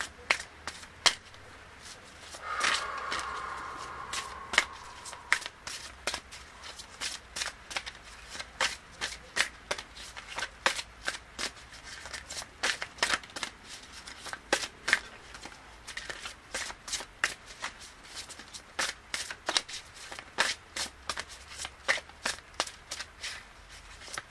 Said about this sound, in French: Je vais continuer avec une carte de l'oracle des 13 lunes à la rencontre de vos archétypes féminins de Daisy et Julie Baudin.